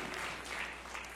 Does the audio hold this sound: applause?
yes